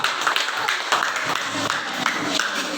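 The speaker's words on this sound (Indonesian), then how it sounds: "Oke, tepuk tangan untuk kelompok 2." A classroom of students claps for a group that has just finished presenting, a dense patter of many hands that holds steady throughout, with faint voices underneath.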